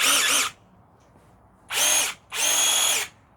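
A SeeSii SC8B cordless 8-inch mini chainsaw revs in three loud, high-pitched bursts separated by short pauses, close up, with no talking.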